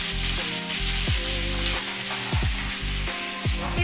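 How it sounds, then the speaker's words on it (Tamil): Chopped onions, ginger, garlic and green chili sauté in a pan with a loud, continuous sizzle, while a steady tonal hum with repeating dips runs underneath. "இது எல்லாமே லைட்டாக வதங்கட்டும்."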